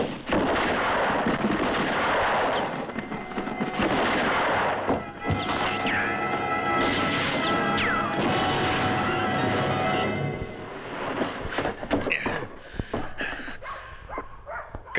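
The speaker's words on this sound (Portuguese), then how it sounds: "Todos vocês, atirem naquele barril." Gunfire in a western film shootout as several shooters fire at an explosive barrel: loud, dense volleys of shots and sharp cracks with ricochet-like whines, continuing over about fifteen seconds of clamour.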